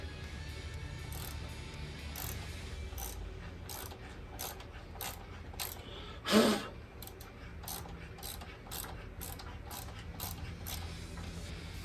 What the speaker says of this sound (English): my cheapo ratchet's gonna give out on me